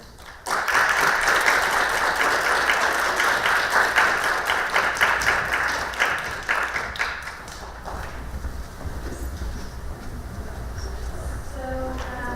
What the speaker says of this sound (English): I would definitely ask for a round of applause to these very hardworking designers